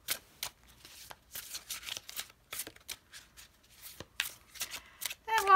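Tarot cards are shuffled by hand in quick, crisp riffling bursts, close and fairly quiet, followed by a brief spoken voice at the end.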